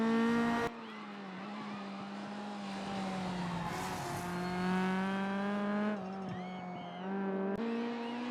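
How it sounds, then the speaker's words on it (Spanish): Rally car in Assetto Corsa Rally drifting on a rear-wheel-drive setup, engine droning and shifting pitch as the tires skid and squeal continuously, loud and close with a brief cut in the middle. "hay que hacer el derrape eficiente, no hay que sobreconducir"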